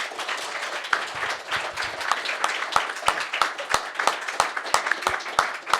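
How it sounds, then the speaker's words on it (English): Fans at a Twenty One Pilots press conference in Toronto applauding, a crowd's continuous clapping layered with sharper individual claps standing out, moderately loud and close with some voices underneath. "So let's have a round of applause for Tyler and Josh."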